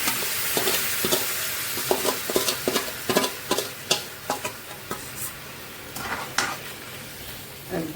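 Watermelon rind candies cooking in a pan over low heat, a steady soft sizzle broken by repeated stirring scrapes and light clinks, close and moderately quiet, with no talking.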